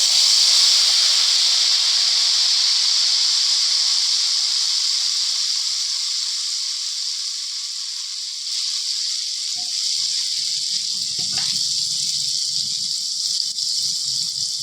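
Red chilies crackle in hot oil for a kadhi pakora tadka, a steady bright sizzling hiss that runs throughout, with faint clatter near the end.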